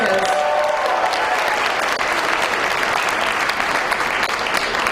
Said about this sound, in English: And everybody else, can you cheer for those people?